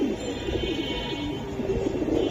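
Pigeons coo softly at a pigeon seller's stall, low rolling calls repeating close by against a faint background hum, with no talk over them.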